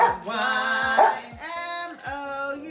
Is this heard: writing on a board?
no